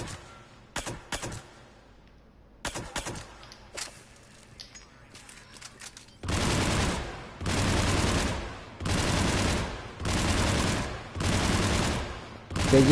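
M7 Lancer assault rifle fire in Mass Effect 3 on Insanity difficulty: a few short scattered bursts, then four long sustained volleys of rapid automatic shots, loud and close, with brief gaps between.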